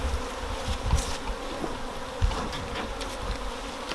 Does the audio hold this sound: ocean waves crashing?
no